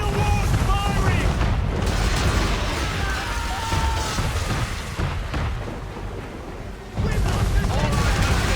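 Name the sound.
man-of-war ship firing cannons, Assassin's Creed 3 video game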